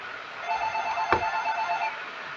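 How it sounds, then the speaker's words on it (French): A telephone gives a single short ring over a quiet background while a card game is being played. "Désolé, je peux pas répondre au téléphone, je joue."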